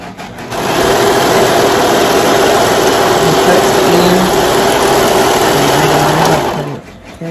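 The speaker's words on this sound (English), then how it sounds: "And that's your serger, serges the ends." A serger sewing machine runs steadily for about six seconds while serging the ends of fabric pieces being joined, a close, loud, continuous high-pitched whir that starts and stops cleanly.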